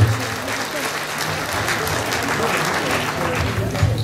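A crowd at a political party investiture event in France applauds economist Antoine Boumboabré, a sustained, full wash of clapping that holds steady for several seconds with faint voices underneath.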